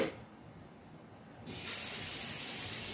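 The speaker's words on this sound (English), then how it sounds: "we're going to allow this to just stay simmering for a while" Bolognese sauce with ground beef and jarred sauce simmering in a pot, a steady broadband hiss and faint bubbling that jumps louder halfway through and holds, no talk.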